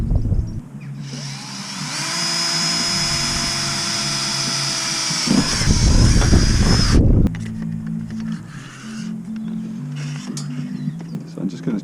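A power drill bores holes through a van's metal roof into the cabin while fitting solar panels, a steady close whine running for several seconds, then surging louder and rougher as the bit breaks through before stopping.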